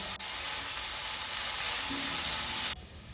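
Curry leaves hit frying onions in a pan, cooking a Chettinad aviyal, and release a loud, steady, close sizzle that cuts off abruptly near the end.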